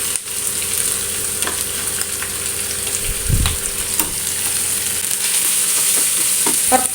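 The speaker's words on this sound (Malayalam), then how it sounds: "ഒരു രണ്ട് സവാള അരിഞ്ഞതിട്ട് കൊടുക്കുന്നുണ്ട്" Two chopped onions sizzle loudly in a pan with curry leaves, a continuous hiss broken by scattered spatula clicks and one low thump, near and steady with no voices.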